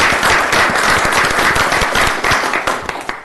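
Audience applause at a tourist development council meeting, a dense burst of hand clapping that fills the room and then thins out into scattered claps.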